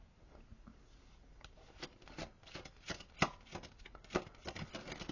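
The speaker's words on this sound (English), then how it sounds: "I normally don't shuffle this much" A deck of cards is shuffled slowly by hand, a run of soft riffling and flicking bursts that grow louder and more frequent, close and quiet, with no speech.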